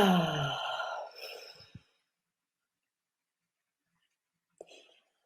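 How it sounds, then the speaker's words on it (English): A single deep breath drawn in and slowly let out during a guided spiritual energy session, audible as a near, breathy sigh followed by silence and a faint soft sound. "one more deep breath"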